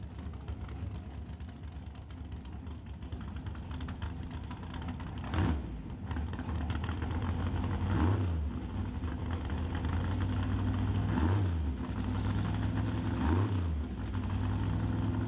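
A turbocharged nitrous radial drag car idles at an Outlaw 275 drag race, a rough, loping low rumble held steady with a few periodic surges and pops, heard from a moderate distance.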